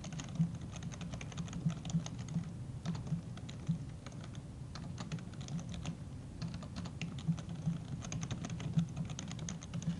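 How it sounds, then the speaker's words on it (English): An email reply is typed steadily on a computer keyboard, with fast, continuous soft key clicks over a low background hum and no talking. "I type my reply."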